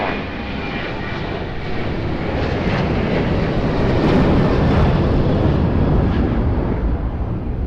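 A passenger airplane on approach to land at Lisbon Airport roars loudly and steadily, its engine noise swelling slightly as it passes close by.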